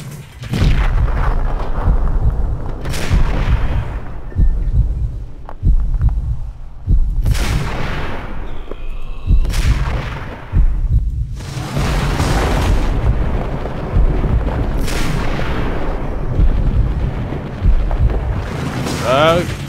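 Gunfire in the video game Max Payne comes as heavy, booming shots with rumbling low tails, several loud blasts spread through the stretch, while a person talks over much of it.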